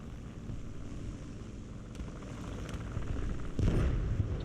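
A steady Yak-3 fighter plane engine drone in a video game roars throughout, growing louder and rougher near the end, with no voices.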